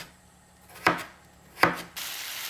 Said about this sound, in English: I can cut the potatoes